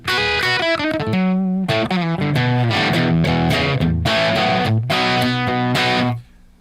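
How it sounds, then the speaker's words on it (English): A Gibson Les Paul electric guitar played through heavy distortion rings out in loud chords and short riffs with brief gaps, close and prominent, before cutting off at the end. "I'm going to switch over to a Les Paul here in a second."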